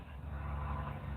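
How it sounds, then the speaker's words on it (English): Truck rolling by on a road, a low steady engine rumble with road noise, fairly faint and brief with no talk. "let me let this truck go by."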